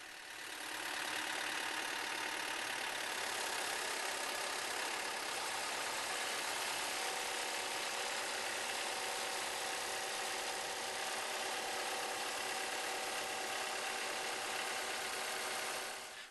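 A Vermeer trencher engine idles steadily while the machine is loaded onto a trailer, a constant, even engine drone that holds at the same level throughout with no other sound.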